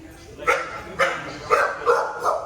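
A dog barks in a tense indoor confrontation, four sharp close barks spaced about half a second apart, each with a brief trailing tail.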